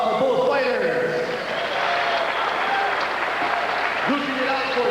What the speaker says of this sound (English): how about a nice round of applause for both fighters